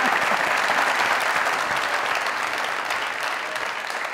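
Studio audience at a comedy talk show claps steadily and loudly, a continuous dense wave of applause that slowly eases toward the end.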